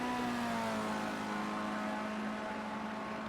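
A Formula race car engine in Project Cars 2 holds a loud, steady, high-pitched whine, pitch easing slightly downward over a few seconds, with no talk over it.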